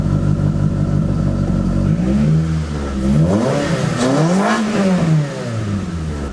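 A Mitsubishi Eclipse with a 4G engine idles with a steady low rumble, then revs up and down several times in rising and falling sweeps, loud and close, with clattering engine noise throughout.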